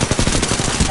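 A 301 rifle fires in Apex Legends, a loud, rapid automatic burst of tightly packed shots that runs continuously for about a second.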